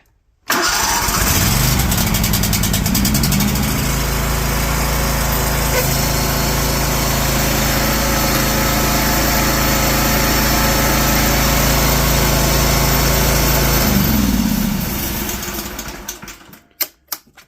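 A DuroMax 713cc 23hp gas engine cranks on a newly replaced starter and catches right away, then runs at a loud, steady roar for about thirteen seconds before shutting off and winding down, close by with no talking.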